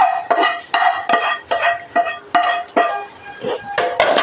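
Cooked rice tumbles into a pot of ghee, fried cashews, raisins and onion for ghee rice, followed by loud, close rhythmic scrapes and clinks of a metal spoon against the pot as everything is stirred and tossed, no talk.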